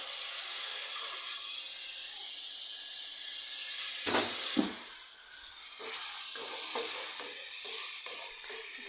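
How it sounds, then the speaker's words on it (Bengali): Water poured onto frying turmeric and chili powder in a pan, a loud steamy hiss that jumps up sharply, then settles into a bubbling sizzle with scraping stirs, close by and without voices. "পানি দিয়ে দিই।"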